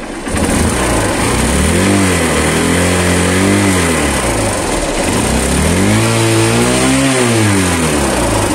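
A motorcycle engine revs up and down twice, pitch rising and falling in smooth swells over a steady close idle.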